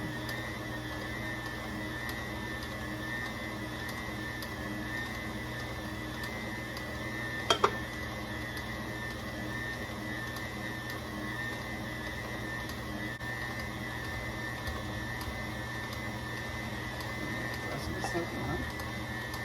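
An electric mixer beating pound cake batter made with cake flour and 7-Up, humming steadily close by for the whole stretch with a faint whine, a brief click partway through, and people talking over it.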